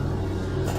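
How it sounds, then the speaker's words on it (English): Lawn mower running somewhere in the background outdoors: a steady, low engine drone that holds unbroken through the short moment, distant and muted. "somebody's mowing"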